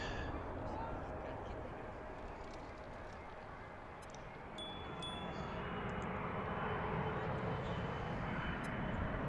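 An airplane rolls on runway 15 at DCA, a broad, steady engine roar from a moderate distance, swelling slightly toward the end, with faint background chatter.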